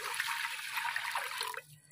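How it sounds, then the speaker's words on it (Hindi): Water pours into a pot for making jaggery syrup, a close splashing trickle lasting about a second and a half before it stops abruptly. "1 किलो पानी डाल लेना है।"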